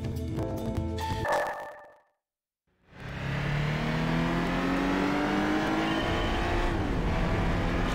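A racing car engine roars and revs continuously in Gran Turismo HD on PS3, the pitch climbing steadily, after a brief silent gap; game-like engine sound, no talking.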